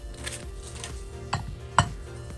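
A plate set down on a hard surface, two small clinks close by with a quiet room between them.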